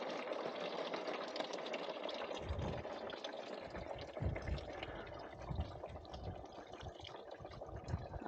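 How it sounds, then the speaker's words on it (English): Coolant draining from a Massey Ferguson 231 tractor's cooling system into a drain bucket, a continuous close pouring and splashing of liquid that swells into heavier gurgling partway through, with no voices. "I think we're gonna drain pretty much this amount of coolant"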